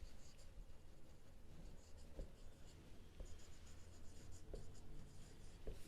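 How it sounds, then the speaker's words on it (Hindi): A pen or pencil writing on paper during a maths lesson: faint, close scratching strokes with a few small taps as the tip lifts and touches down, over steady background hiss. "मैं इधर लिख देती हूँ"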